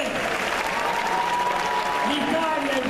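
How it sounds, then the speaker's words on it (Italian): Loud audience applause at a Padova gathering celebrating the Veneto region, dense continuous clapping mixed with cheering voices and crowd noise close up. "facciamo un applauso a Veneto per favore"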